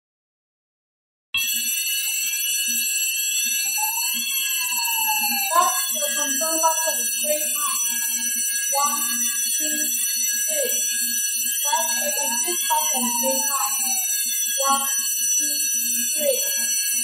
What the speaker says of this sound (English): Now I would like to show you how to reset flame detector by controller.